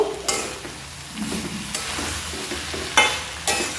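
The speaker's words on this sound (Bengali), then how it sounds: "এবার ঢাকনাটা খুলে দেব দিয়ে একটু নেড়ে চেড়ে দেবো" A spoon scrapes and turns banana flower and shrimp curry in a hot, sizzling pan, with a steady frying hiss under several sharper scraping strokes near the pan, close and fairly loud, no voices.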